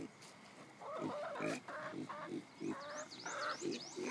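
A pig grunts and snorts in a farmyard, a run of short close oinks broken by pauses, with chickens clucking and birds chirping in the background.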